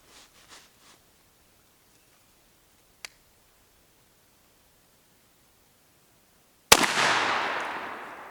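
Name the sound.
shotgun firing budget turkey load at 20 yards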